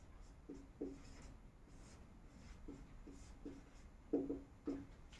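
Chalk scratches and taps across a classroom board in short, irregular strokes, quiet but distinct, with small bursts of writing separated by pauses.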